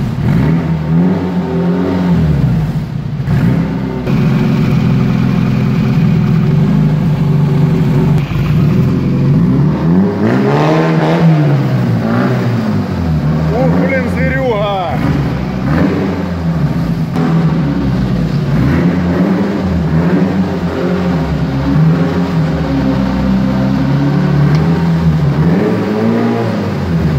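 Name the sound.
car engine starting and revving strangely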